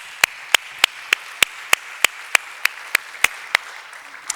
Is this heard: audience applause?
yes